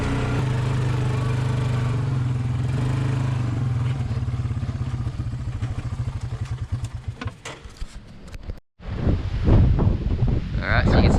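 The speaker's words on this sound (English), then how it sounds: "Man, it is a windy day." Strong wind on Pitcairn Island buffets the microphone in loud, continuous gusts with a low rumble, briefly cutting out before a harsher burst of blustery noise near the end.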